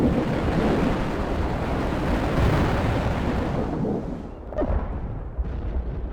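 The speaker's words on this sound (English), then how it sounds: "We can deploy and lay down a heavy barrage." A heavy artillery barrage in a war video game, rolling booms that merge into a loud, continuous rumble before easing off into scattered thuds and distant blasts.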